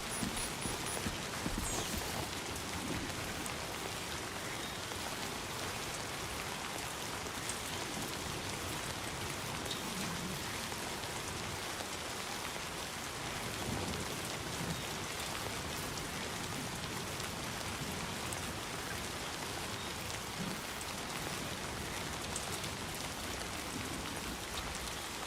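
Steady rain falls across a Death Stranding 2 game landscape, a dense, continuous hiss of drops spattering on surfaces, fairly loud and unbroken throughout with no voices.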